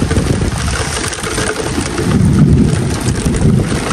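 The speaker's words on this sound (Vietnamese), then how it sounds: "Hồi nãy giờ quá mưa" Heavy rain pours down with low rumbling thunder during the Mekong flood season, a dense, loud, continuous hiss with a deep roll swelling midway, no voices.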